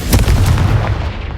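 The Confringo blasting spell in the Hogwarts Legacy video game lets out a loud, rumbling explosive burst that booms continuously for just over a second.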